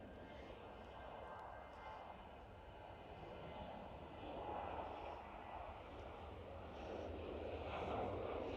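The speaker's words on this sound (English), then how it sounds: "KLM 737 departing." A KLM Boeing 737 departing Schiphol Airport in Amsterdam, a distant, steady jet engine roar that slowly builds, with a person talking faintly over it.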